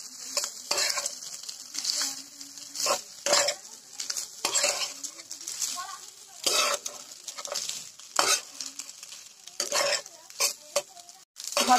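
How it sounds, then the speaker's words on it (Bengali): Cooked rice being stirred and tossed with vegetables and egg in a frying pan, with a loud steady sizzle under repeated scraping and clinking of a utensil against the metal pan, no voices. "ভাতগুলো দিয়ে সব সাথে ভালো করে মিশিয়ে দিতে দেবো"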